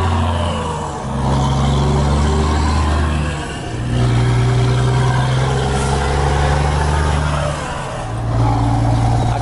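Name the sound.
Volvo FH 600 hp truck engine running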